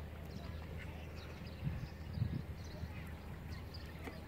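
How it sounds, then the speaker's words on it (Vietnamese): Geese beside a clear fishing pond call with a couple of brief, low honks over steady outdoor background noise. "Có mấy con ngỗng đó nè."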